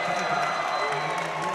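A fired-up BYU crowd cheers and applauds during a men's college volleyball match against Loyola, a sustained roar of clapping and voices in a large arena, with a commentator talking over it.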